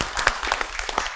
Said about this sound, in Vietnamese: hai bạn rất xứng đáng được mọi người cho một tràng pháo tay